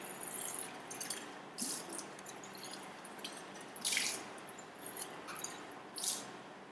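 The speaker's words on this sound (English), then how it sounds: "So I'm just going to wash it with tap water, so throw it on the sink." A conical flask is rinsed with tap water at a lab sink, with faint splashes and sloshing bursts recurring every second or so over a soft background hiss.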